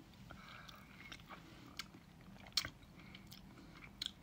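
Someone eats curry coconut soup close to the mic at a taste test, with soft chewing and mouth sounds and a few sharp clicks.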